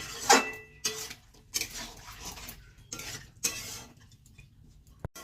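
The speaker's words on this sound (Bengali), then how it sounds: "তো একটু নেড়ে দিচ্ছি মাংসটি" Chicken pieces being stirred in a pan while cooking kosha: a series of sharp metallic spoon clinks and scrapes against the pan, coming in irregular bursts between quiet moments, with one final click at the end.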